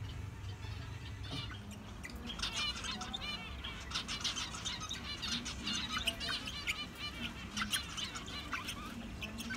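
Small black birds flutter back and forth inside a tiny cage at a garden and pet shop, giving quick, bright chirps and tweets over a steady indoor hum.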